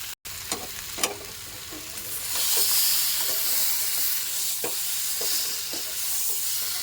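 Mustard egg curry sautéing in a pan, a steady frying sizzle and hiss with scattered soft stirring scrapes, close and fairly loud, starting quieter and swelling after a couple of seconds.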